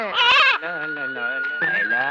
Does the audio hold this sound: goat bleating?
yes